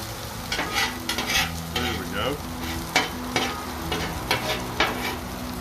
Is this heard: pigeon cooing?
no